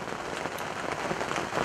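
Light rain falling outdoors on a spring turkey hunt, a steady soft patter of drops filling the short stretch without any voices.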